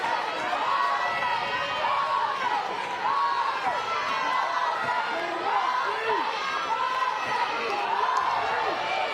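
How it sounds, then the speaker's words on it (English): A restless, sold-out stadium crowd at a college softball game between Oklahoma and OSU fills the air with continuous dense chatter and shouting, loud and steady throughout. "Sold out crowd, largest crowd in the history of this stadium,"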